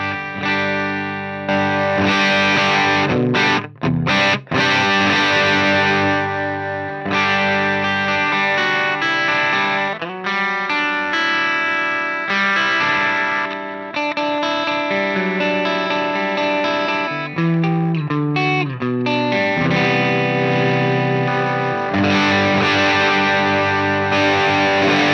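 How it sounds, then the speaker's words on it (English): An overdriven electric guitar plays a sustained lead line through a POD Go using Minotaur overdrive at high gain, bright and saturated with chorus-like shimmer, continuous and loud with no voices. "I've added a switch to push the Minotaur's gain up to 9 for lead tones."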